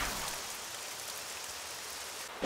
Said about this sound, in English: When is this rain ever gonna stop?